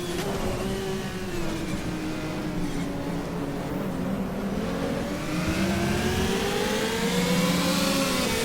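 The Ferrari 333 SP race car in the GTR2 racing game, its engine droning loud and steady throughout, rising and falling in pitch as it accelerates and shifts through gears.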